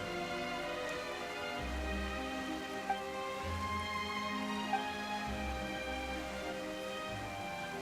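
Steady rainfall in the video game Genshin Impact, a continuous soft patter over a constant bed of gentle music, with no talking.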